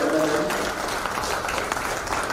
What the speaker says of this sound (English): So a big round of applause for each and every one of you, our members of MMM.